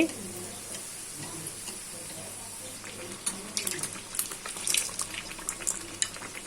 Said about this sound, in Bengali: প্রত্যেকটা আমি একইভাবে ভেজে নিচ্ছি